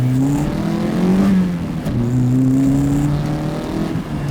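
A Toyota Corolla FXGT engine pulls steadily, its pitch rising and dipping through gear changes, close and fairly loud with no talking.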